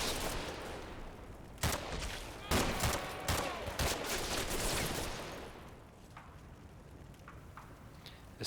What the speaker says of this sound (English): Gunfire dies down.